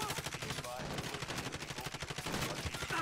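Rapid gunfire in Call of Duty Warzone, a squad match, with dense automatic bursts rattling continuously and loudly for the whole stretch.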